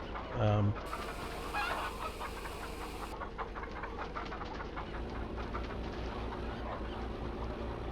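Chickens clucking in the Farming Simulator 2015 video game, a busy, steady run of clucks over a continuous low engine-like drone, with a brief louder burst near the start.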